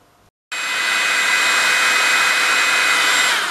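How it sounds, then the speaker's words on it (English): A hairdryer switches on abruptly after a short quiet moment and blows with a steady, loud whooshing hum. It is held close while warming a capacitor in a video recorder during an electronics repair. "Right, let's just warm that with a hairdryer and see what happens."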